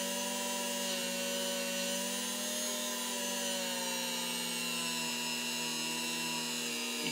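A Dremel rotary tool whines steadily at high speed while polishing brass, the pitch dipping slightly as it is pressed against the metal, continuous and close.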